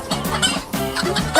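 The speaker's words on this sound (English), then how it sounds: "Listen to the sound they're making. It's like a little cluck, cluck, cluck, cluck, isn't it?" Chickens cluck close by in quick, repeated bursts, a busy, slightly noisy chatter of several hens.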